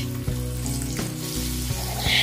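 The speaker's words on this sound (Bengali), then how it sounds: "কালো জিরেগুলো যখন ফাটতে শুরু করলো তখন এর মধ্যে দিয়ে দিলাম 1/4 টিস্পুন হিং।" Black cumin seeds and asafoetida sizzle and crackle steadily in hot oil, a continuous close frying hiss with a few soft stirring knocks and no talk.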